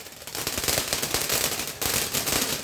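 A firecracker string at a fireworks session bursts into a rapid, dense run of sharp cracks and pops, loud and close, crackling continuously for a few seconds.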